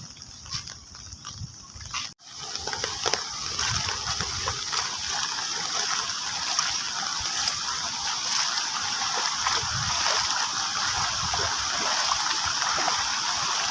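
Heavy monsoon rainwater rushes and splashes over a road in Konkan, Sindhudurg, as a steady, broad wash of flowing water that continues evenly throughout after a brief dip at the start.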